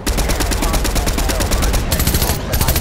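Fortnite gunfire, a loud, rapid automatic burst of close shots firing without pause for nearly three seconds, with a brief gap near the end before the firing resumes.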